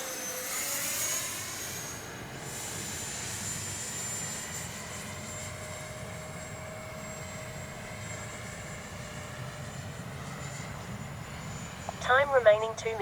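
A Freewing F-22 RC jet comes in to land, its ducted-fan whine a faint, steady hiss at a distance, with a few louder bursts near the end.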